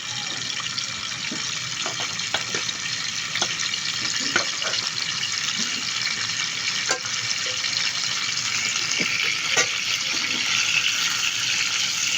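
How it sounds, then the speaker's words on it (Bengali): Potato pieces fry in hot oil for Kacchi biryani, a continuous soft sizzle with scattered clicks and taps of a utensil against the pot, close by and without talk. "দেখতেই পাচ্ছেন আমি আলুটাকে একটু ভেজে নিয়েছি, হালকা একটু ভাজা ভাজা হলে এখন এটাকে তুলে নিব।"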